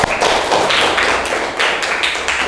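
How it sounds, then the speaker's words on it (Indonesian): A group of schoolchildren clapping their hands together in a classroom during a lesson, a dense, steady patter of many close claps with slight surges, loud and continuous for a couple of seconds with no talking. "Nah, tepuk tangan anak-anak."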